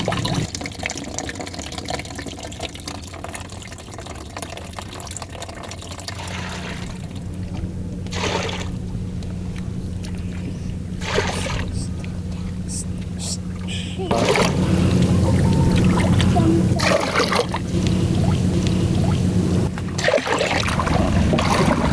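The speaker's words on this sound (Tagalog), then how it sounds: "malakas ang patak ng tubig" Water pours and splashes strongly and continuously, rushing louder in the second half, with people talking intermittently beneath it.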